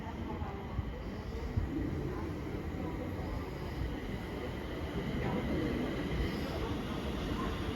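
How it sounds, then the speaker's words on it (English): A low, rumbling mainline train rolls into a station, steady and building, with faint voices in the background. "Waiting for the final train to take me home. In fact, I can see it coming now."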